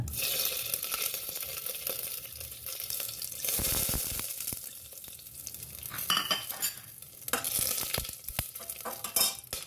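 Shahi jeera, cardamom, peppercorns, cloves, cinnamon and bay leaves sizzle in hot oil for tempering, a close, lively crackle broken by a few stirring scrapes and light utensil clinks, with no voices.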